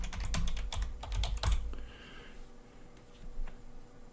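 Password being typed on a computer keyboard during an operating system install: a quick burst of close, crisp key clicks, then a pause and a few scattered taps.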